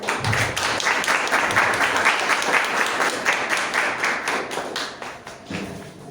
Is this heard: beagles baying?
no